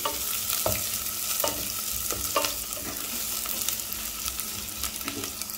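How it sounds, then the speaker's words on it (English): Onion frying in oil in a pan for sambar, a steady close sizzle with occasional sharp clicks of a spoon stirring, continuous with no talk. "Okay, you can cook nicely, fry in the oil."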